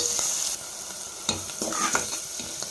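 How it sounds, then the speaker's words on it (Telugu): Onions frying in a pan with salt for a village-style okra pulusu, a close steady sizzle with occasional scraping stirs of a spoon, no one talking. "సాల్ట్ వేసుకుంటే బాగా వేగుతాయి అన్నమాట"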